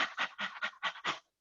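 A person imitates a dog's pant, six quick, breathy, rhythmic huffs close to the ear, then silence.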